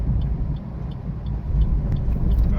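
A car rolls slowly through traffic near a CNG pump, its engine and road noise forming a continuous low rumble that swells slightly toward the end.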